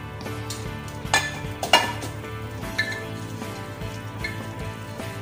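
Elbow macaroni being stirred into a boiling pot of chicken sopas, with soft bubbling, sizzling and a few sharp clinks of a utensil against the pot, close and steady throughout.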